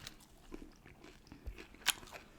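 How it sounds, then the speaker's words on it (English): Chewing and biting on food while hot sauces are tasted, a few quiet crunchy bites and mouth sounds close to the mic, with one sharper crackling bite near the end. "And if you don't like chewing sounds, I'm so sorry."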